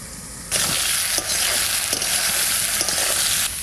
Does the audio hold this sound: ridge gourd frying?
yes